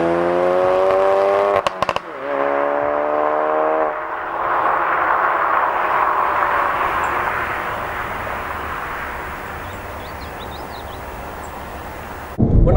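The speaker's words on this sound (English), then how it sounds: "the exhaust note as well, popping away during gear changes, and when you come off the throttle" A Ford Focus RS hot hatch drives hard with a loud, steady engine and exhaust roar; a sharp crackle around a gear change breaks in early, then the drone continues alone.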